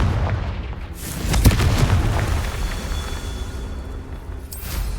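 Confringo fire spell bursting in Hogwarts Legacy, a loud blast at about 1.5 seconds that rumbles on, with a second burst near the end, over a busy game soundscape.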